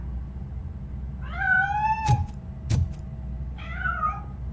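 A cat meows in the video game RoboCop: Rogue City, two drawn-out rising meows separated by a pair of sharp knocks, set against a low steady background hum.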